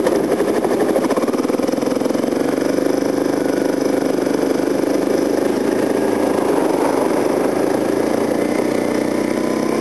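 A motorcycle rolls over loose gravel with the clutch pulled in, coasting after a short burst of speed; a steady, close engine drone with rumbling, vibrating crunch runs continuously throughout, without talk.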